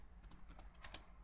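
Computer keyboard typing as a company name goes into a text box, a quick, faint run of crisp key clicks in an uneven rhythm, heard up close with no talk.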